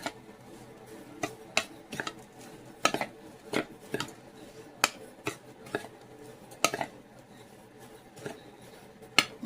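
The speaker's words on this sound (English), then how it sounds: "I'm going to stir those together to make a good crumble." A spoon stirring cherry crumble mixture in a bowl, a steady series of close sharp clinks and taps against the bowl's side, irregularly spaced over nine seconds, with no talking.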